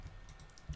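Typing on a computer keyboard during a Dead Frontier game session: a short, steady run of clicking keys at moderate level, with one louder thump near the end.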